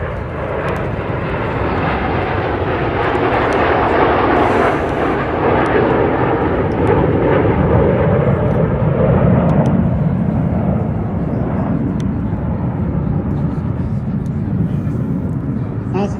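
A Red Arrows jet trailing red, white and blue smoke roars past at the IWM Duxford D-Day anniversary airshow, a loud, sustained engine rush that swells and fades, with a commentator's voice over it.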